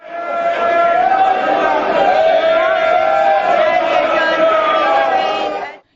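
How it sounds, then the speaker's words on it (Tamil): Telangana MPs in the Indian Parliament shout slogans in a loud, close, unbroken chorus of many raised voices that starts abruptly and cuts off sharply at the end. "தெலங்கானா எம்பிக்களும் சபையின் மையப்பகுதிக்கு சென்று தெலங்கானா ஆதரவு கோஷமிட்டனர்."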